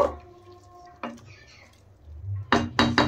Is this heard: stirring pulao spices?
yes